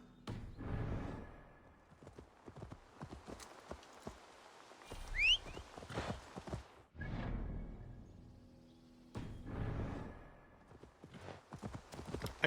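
Horse hooves clip-clop in the Ni No Kuni video game, bursts of quick rhythmic hoofbeats separated by quieter gaps, with a brief swishing chime partway through, close and moderate in level.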